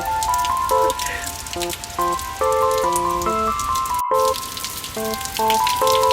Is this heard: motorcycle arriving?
no